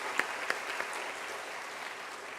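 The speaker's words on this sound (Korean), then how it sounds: "우리 부부 찬양대 격려의 박수 한번 보내주시죠" Church congregation at a Sunday afternoon service claps for a couple's choir, a couple of sharp individual claps over a soft, continuous wash of scattered applause from the room.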